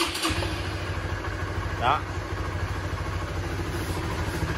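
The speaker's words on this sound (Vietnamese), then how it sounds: "Rồi thì bây giờ mình sẽ bấm thử nổ máy cho anh em coi thử ha." A Honda Winner motorcycle, previously damaged and rough-running, is started and then settles into a steady, rhythmic idle close by, with a brief spoken word near the start and one short sharper sound midway.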